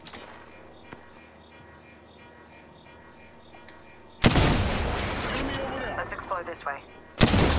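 Gunfire in the video game Apex Legends: a quiet, spoken stretch gives way to a sudden, loud, sustained barrage of shots and impacts, then a fresh blast at the end.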